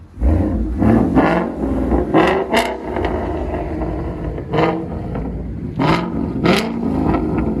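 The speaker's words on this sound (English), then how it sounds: "Go ahead and rev it." A Ford Mustang GT with a 5.0L Coyote V8 and a loud aftermarket exhaust is revved in several sharp bursts, each rising and falling back to a rumbling idle, close and loud.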